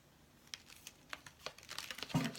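Paper pads are handled, and their sheets make a steady run of soft crinkles and rustles at close range, growing a little louder toward the end.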